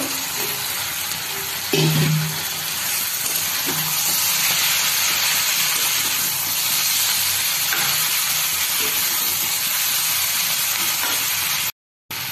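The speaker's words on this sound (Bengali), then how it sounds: "মাছটা ঢেলে দেবো।" Fish is poured into a hot pan while cooking a winter dish, setting off a sudden burst of loud sizzling that settles into a steady, close frying hiss.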